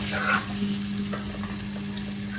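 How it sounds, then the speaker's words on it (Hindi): Masala of tomatoes and turmeric frying in a pan, a steady close sizzle with a few soft stirring scrapes and a faint hum underneath. "और अब हमने कर लेनी है इसकी भुनाई।"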